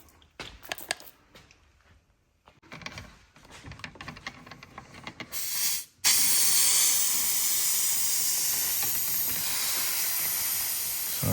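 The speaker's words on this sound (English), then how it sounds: "So releasing the pressure on the bleeder." Pressure hisses out at a brake bleeder during a brake fluid bleed on a Porsche Cayenne, VW Touareg or Audi Q7, starting abruptly after some clicking and tapping and continuing as a loud, steady close hiss.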